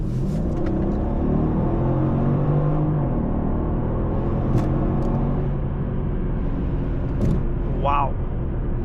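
A Mercedes CLS with a twin-turbo V8 pulls hard under acceleration, a loud steady engine rumble with road noise filling the whole stretch while a person talks over it.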